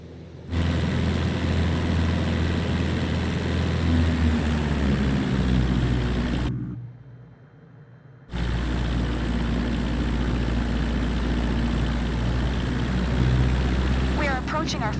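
Cessna 172 engine droning steadily during a takeoff roll in Flight Simulator 2024, a loud continuous propeller hum that briefly drops away and then returns, with someone talking over it throughout.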